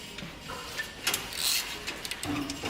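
A hand ratchet clicks in short bursts while loosening heat shield clamps on the exhaust of a Harley-Davidson Softail, close up in a workshop, with a few metallic clinks between strokes.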